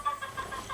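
Short chicken clucking played back during a game, a few soft, quick clucks at moderate loudness with faint background noise and no talking.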